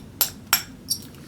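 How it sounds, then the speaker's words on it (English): A hammer taps a firing pin on a Romanian Tokarev pistol three times, sharp metallic clinks spaced roughly a third of a second apart, close and crisp, the last strike lighter than the first two, with no speech. "take your mallet or hammer or whatever and tap on it a few times."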